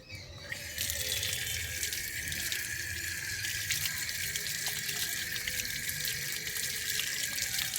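A tap runs steadily into a sink while hands are washed, a continuous close hiss of flowing water filling the whole stretch after a brief quiet start.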